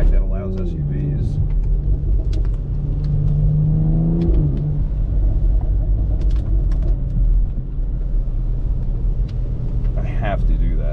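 A BMW X3 M with a single midpipe exhaust drives on a wet, rainy road, its engine a steady loud rumble that swells as it revs and accelerates, with someone talking over it throughout.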